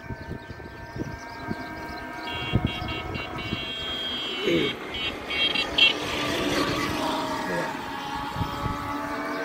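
An auto rickshaw approaches from behind on a road while an electric Bandhan motorcycle is ridden, its engine and road noise rising and swelling toward the middle, with a voice speaking over the traffic.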